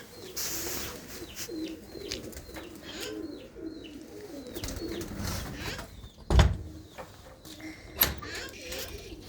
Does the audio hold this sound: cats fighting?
no